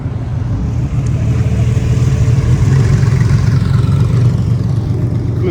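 A Lamborghini Countach S engine runs steadily at a car meet in Japan, a loud, low, continuous rumble close by with no talk over it.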